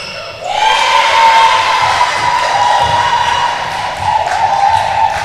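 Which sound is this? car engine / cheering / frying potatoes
cheering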